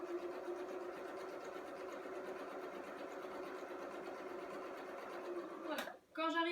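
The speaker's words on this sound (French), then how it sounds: "Et je couds d'un côté de la diagonale." Sewing machine stitching along the diagonal of a patchwork quilt square with a quarter-inch foot, a steady close whirr running continuously before a brief stop and restart, with faint talk.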